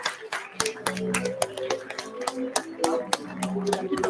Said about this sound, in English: So can I get a huge applause for everybody coming in?